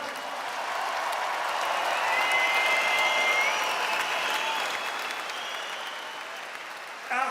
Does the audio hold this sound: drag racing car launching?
no